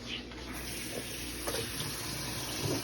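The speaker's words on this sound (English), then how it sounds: "I'm gonna wash that off with some water" Tap water running steadily into a sink as a handful of string green beans is rinsed, a continuous splashing rush with small irregular bursts.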